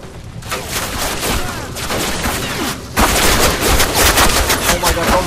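Gunfire in the video game Call of Duty Classic, dense rapid bursts of shots rattling continuously and growing louder partway through, with no speech.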